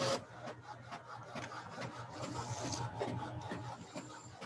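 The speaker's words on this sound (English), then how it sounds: "So now we're printing." A sublimation printer printing onto EasySubli vinyl, a soft continuous mechanical whir with faint rubbing and shuttling texture, quiet and close with no speech.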